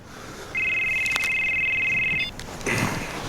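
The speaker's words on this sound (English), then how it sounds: "Isn't that Dad's phone?" A telephone rings with a steady electronic ringtone, one long continuous burst lasting nearly two seconds, then a brief second start, heard clearly and fairly close in a quiet room with no talk.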